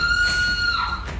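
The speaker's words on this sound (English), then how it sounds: "From inside, there's a piercing scream." A woman inside a house lets out a piercing scream, a sustained high-pitched cry lasting about a second, loud and close.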